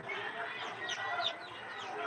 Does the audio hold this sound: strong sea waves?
no